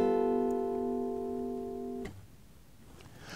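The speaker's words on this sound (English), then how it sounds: "We get a G dominant 9, which sounds like this." A G dominant 9 chord rings out on an acoustic guitar, sustained and fairly soft as it slowly fades, then is cut short with a faint scrape near the end and no speech.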